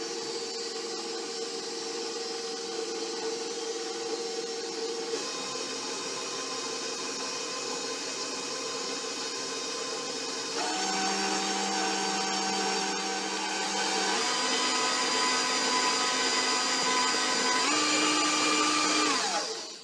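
An electric mixer beats bran muffin batter with raisins, a steady motor whine running the whole time, shifting pitch and growing slightly louder as the speed changes, close and continuous with no talk.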